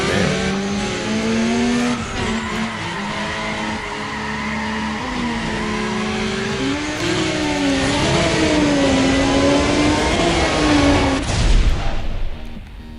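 Nissan GT-R Proto race car in Need for Speed ProStreet roars at high revs with rising and falling engine pitch through gear changes, loud and continuous, with tire skidding, cutting off near the end.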